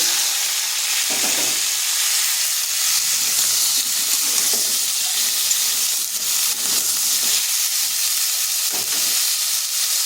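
Pumpkin pieces fry in hot oil in a wok, giving a steady, loud, continuous sizzle with a few soft stirring scrapes and no voices.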